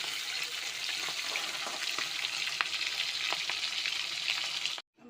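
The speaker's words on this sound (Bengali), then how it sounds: "ট্যাংরা মাছটা ভাজা বসেছিলাম, এক পিঠ ভাজা হয়ে গেছে, ফাটছে, ছালগুলো ফাটে প্রচুর।" Tangra fish frying in hot oil, the skins bursting: a steady loud sizzle runs throughout, dotted with sharp crackling pops, then cuts off abruptly near the end.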